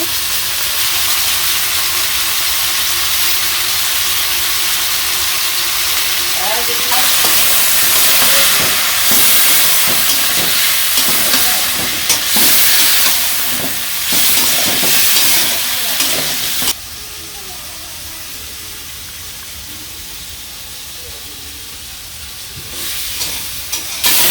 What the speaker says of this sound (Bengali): তো এই যে আমার আলুটা কষানো হয়ে গেছে